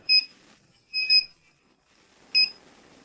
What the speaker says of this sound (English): The device then starts to beep, and the higher the gas concentration,